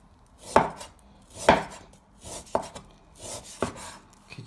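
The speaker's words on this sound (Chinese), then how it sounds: "下面我们切点这个羊肉" A knife cuts mutton with fat and lean meat into large chunks on a cutting board. Four or five uneven, close chopping thuds with softer scraping between them.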